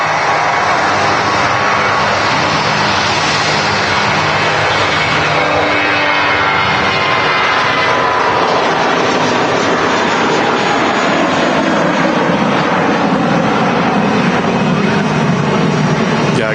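Aircraft at Manchester Airport, a loud sustained jet engine roar that builds and shifts in pitch as a plane passes near, heard alone without talk.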